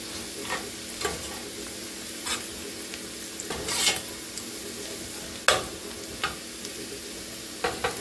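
Soft, steady sizzle of butter in a hot pan, with occasional clicks and scrapes of a utensil stirring nearby.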